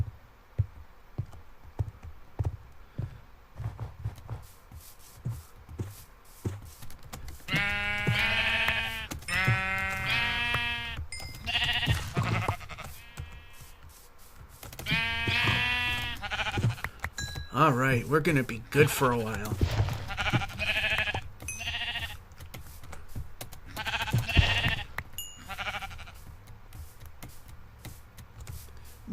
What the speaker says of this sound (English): More sheep.